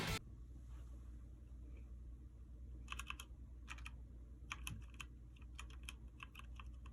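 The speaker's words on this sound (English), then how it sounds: "I'm very used to typing on the keyboard" Short bursts of typing on a computer keyboard, quick clusters of crisp clicks separated by pauses over a low steady room hum.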